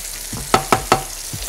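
Beef heart sizzles in a frying pan and is flipped, with three sharp clatters in quick succession over a steady hiss, then a softer knock at the end.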